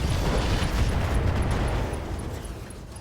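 Mech weapons firing and impacting in the video game RogueTech, a loud, dense, rumbling barrage of blasts that holds steady, then fades slightly toward the end.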